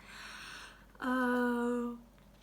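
A person yawns close by: a drawn-out, voiced exhalation lasting about a second, rising and then trailing off over quiet room tone.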